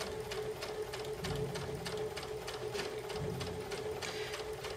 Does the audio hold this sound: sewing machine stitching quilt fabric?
yes